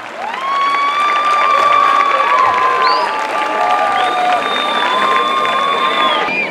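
A crowd at an outdoor village plaza event claps and cheers loudly, with whoops and shouting voices layered over continuous applause that swells and stays strong throughout.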